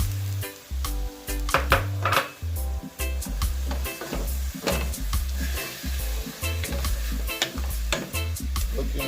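Chopped garlic and butter sizzle in a pot for a one-pot chicken and rice dish, with steady frying hiss and repeated clanks and scrapes of a spoon stirring against the metal, close and continuous.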